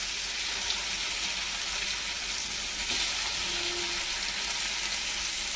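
Masala fish fry sizzling in a pan, a loud, steady hiss of hot oil crackling without pause, close and constant throughout.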